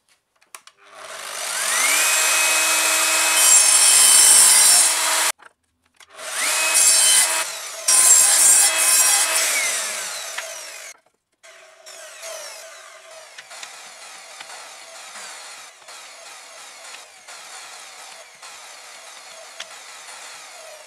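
A power saw whines loudly through a wooden board in two long cuts separated by a short gap, then spins down into quieter rattling and clatter.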